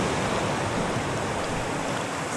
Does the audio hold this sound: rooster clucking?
no